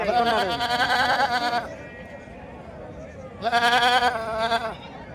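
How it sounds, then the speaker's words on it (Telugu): Goats bleat loudly up close at a livestock market, two long wavering cries separated by a brief pause filled with murmuring background noise. "ఎక్కడ చూసినా కూడా మేకలే మొత్తం మేకలే"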